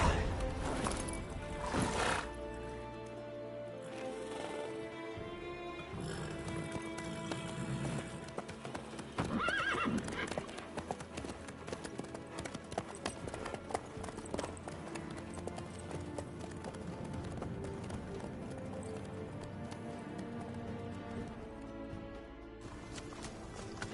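Horse hooves clip-clop at a galloping pace in The Witcher 3, with neighs and whinnies over steady game music, close and continuous throughout.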